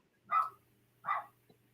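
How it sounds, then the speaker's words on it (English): A puppy gives two short, sharp barks about a second apart, faint and somewhat distant in an otherwise quiet room. "Do you hear the puppy?"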